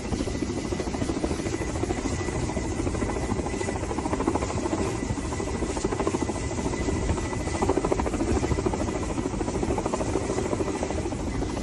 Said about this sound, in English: we can see the Russian Ka-29 right out here trying to hover its way near the bow of the ship